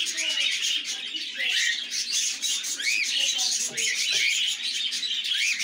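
Zebra finches at an open nest give rapid high chirps and short buzzy calls, several birds overlapping in a busy, continuous twittering that stays close and fairly loud throughout.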